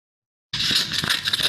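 Scissors cutting, heard up close as a crisp, scratchy snipping scrape that starts abruptly and runs steadily for about a second, with no voices.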